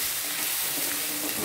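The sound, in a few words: spices frying in a pan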